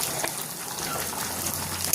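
Boiling Kerala chena erissery curry of yam and coconut being stirred in a pot, a close, steady bubbling and watery sloshing with a brief clatter at the end.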